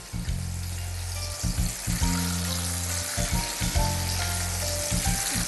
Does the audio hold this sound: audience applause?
no